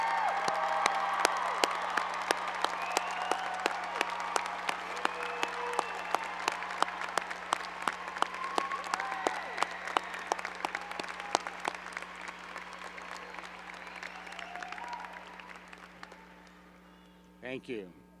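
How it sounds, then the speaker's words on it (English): Commencement audience at UC Law SF applauding first-generation law graduates, sustained dense clapping with occasional whoops in a large hall, gradually thinning toward the end. "please stand so we can recognize and applaud this great accomplishment."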